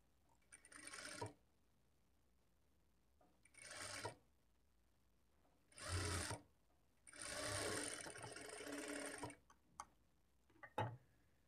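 A sewing machine stitches a blouse seam with a half-inch margin, running in several separate bursts of steady mechanical whirring, some short and one longer, with quiet pauses between and no talking.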